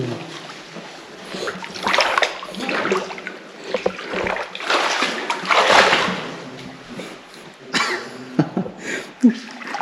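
Bare feet wading through clear, cold, nearly knee-deep water inside a cave in Laos, with repeated sloshing and splashing steps close by, mixed with a man's breathing, grunts and brief talk.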